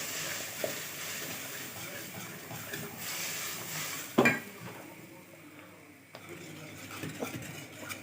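Broth being stirred into toasted flour in a pot for a homemade chicken stock base, with a soft continuous sizzle, scraping and clinking of a utensil against the pot, and a sharp clatter midway.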